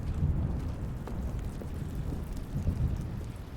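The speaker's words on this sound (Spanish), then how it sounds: "¡Tormenta!" A thunderstorm with steady heavy rain and low rumbling thunder in the video game The Stanley Parable, a continuous dense wash of sound that fills the background with no voices.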